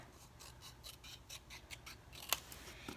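Scissors snip steadily, cutting an item in half with a quick run of close, crisp cuts and one sharper snap near the end, alone and without talk.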